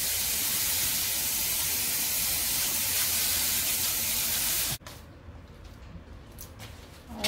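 Green onions are rinsed under a running kitchen tap, a steady close rush of water that stops suddenly partway through, leaving faint handling sounds.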